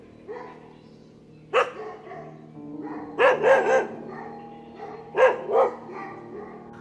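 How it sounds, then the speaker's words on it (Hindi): Dogs bark at 3 a.m. near a cottage-style hotel outside a town in Himachal, sounding as several clear barks in irregular bursts with short gaps and a faint whine between them. No one speaks. "कुत्तों के भौंकने की आवाज़ आ रही थी।"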